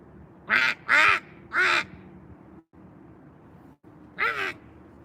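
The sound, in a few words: person imitating a distressed duck call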